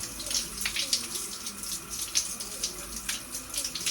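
Water running steadily from a tap while conditioner is rinsed out of hair, a continuous close splashing hiss with irregular spatter.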